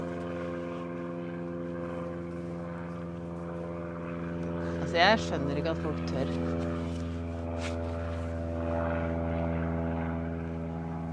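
A propeller airplane drones steadily overhead with a low, continuous engine hum as people talk over it.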